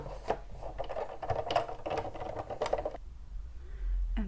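A craft cutting machine slices a fun foam balloon shape with a quiet, rapid mechanical buzzing and clicking that runs for about three seconds, then stops, leaving near silence.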